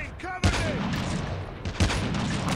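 Sniper rifle shots in Call of Duty Mobile, sniper-only mode on the Killhouse map: two sharp loud cracks about a second and a half apart over steady game noise and background speech.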